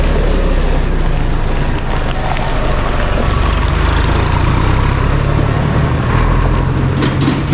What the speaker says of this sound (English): A tractor.